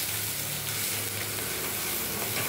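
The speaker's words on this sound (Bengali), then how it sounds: "এবার এগুলো দিয়ে ভাজা হচ্ছে" Vegetables and chopped green chillies frying in ghee give a continuous, even crackling sizzle, close and moderately quiet, with faint stirring and no talk.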